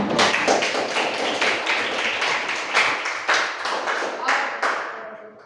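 Steady clapping from a classroom group, a dense patter of hand claps that continues throughout and fades slightly toward the end.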